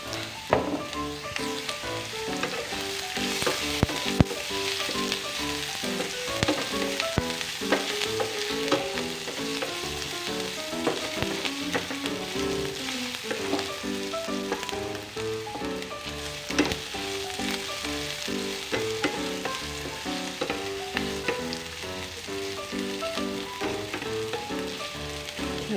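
Ginger sautéing in a pan while clams are cooked, a continuous close sizzle with constant crackling spatter and light stirring, no voices over it.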